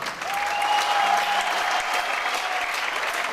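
Steady, dense applause from a festival audience at a final held in an amphitheatre in Nukus, sustained at an even level throughout, with a thin tonal whistle riding above the clapping.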